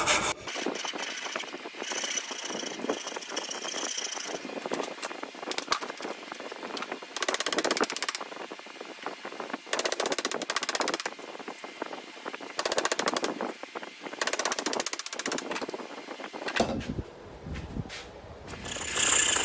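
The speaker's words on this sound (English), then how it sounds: "But here, I just used a scroll saw because I needed time." Scroll saw cutting curves into mahogany for a turning saw frame, a steady buzzing rasp of rapid blade strokes running continuously at close range, with brief pauses and a quieter stretch near the end.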